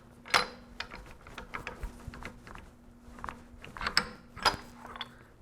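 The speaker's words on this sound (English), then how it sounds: "It says pull on your crankshaft" The breech mechanism of a 40mm saluting gun being worked by hand as its crankshaft is pulled, giving a series of close metallic clicks, clanks and rattles at irregular intervals, with a few sharper knocks among them.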